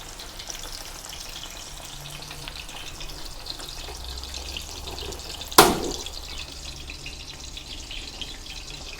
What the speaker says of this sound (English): the pork loin into the hot oil gently to avoid splattering